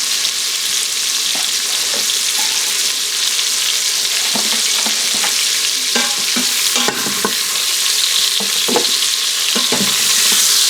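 Beef sizzles loudly and steadily in hot bacon grease in a pan, with scattered scraping and stirring clicks from a utensil over the constant frying hiss.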